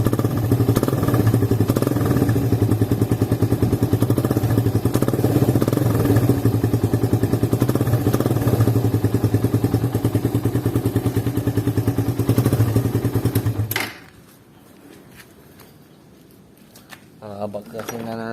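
A Honda Raider 150 motorcycle on its stock exhaust fitted with a big elbow revs loudly and steadily up close with a heavy, continuous drone, then cuts out abruptly, leaving quiet background with a few faint knocks.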